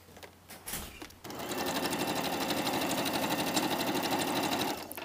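A sewing machine stitching jacket sleeves runs in one steady, fast continuous whir for about three and a half seconds after a few brief handling sounds, close and loud, then stops.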